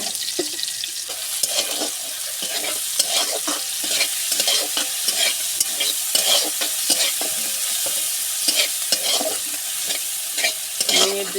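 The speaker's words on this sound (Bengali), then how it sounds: "পেঁয়াজ এইভাবে আমি নেড়ে চেড়ে খুব সুন্দর মতো করে ভেজে নেব" Onions and green chilies frying in a pan, stirred steadily with a spoon that scrapes and taps the metal over a constant loud sizzle, with no talking.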